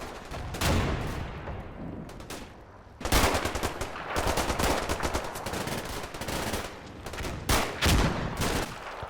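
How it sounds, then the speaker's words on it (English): Bursts of MG42 machine gun fire in the World War II strategy game Combat Mission, loud rapid rattling volleys repeating in clusters with brief gaps between them. "The sheer volume of MG42 fire is too much"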